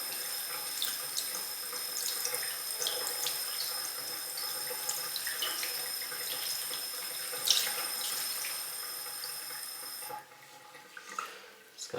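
Tap water runs steadily into a sink while the hair of a 1/6 scale Wonder Woman collectible figure is rinsed, a constant close hiss with small splashes that drops off near the end.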